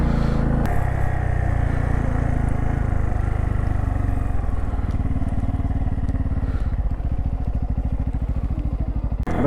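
Several motorcycles, one group of five bikes including Royal Enfield Himalayans, ride on the mountain road toward Bum La Pass in Arunachal Pradesh. Their engines give a loud, steady, close drone with a rapid low thumping pulse throughout.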